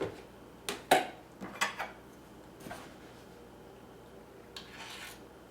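A spoon scoops sugar into bread dough ingredients. Several close, light metallic clinks and scrapes come in a short cluster, then a softer rub and a final faint clink, with a quiet room behind.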